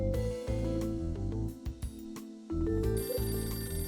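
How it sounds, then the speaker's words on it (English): A telephone rings in the Last Window video game: a bright, electronic bell-like trill repeats in regular bursts over soft background music, with no voices. "That appears to be the phone."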